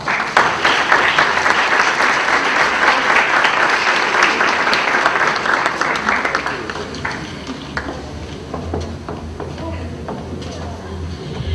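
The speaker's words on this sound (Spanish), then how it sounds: "pido un fuerte aplauso, por favor" Audience applause at an evening rock concert event in Lima, loud and dense dense clapping that swells early and then gradually thins out over about ten seconds, with a low hum underneath.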